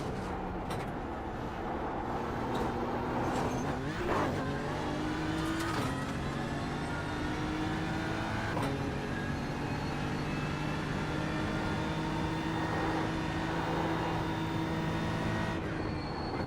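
Car circling the Nürburgring in preparation for the 24-hour race, a loud, steady engine drone heard from onboard with rising and falling revs and several quick gear-shift breaks in pitch.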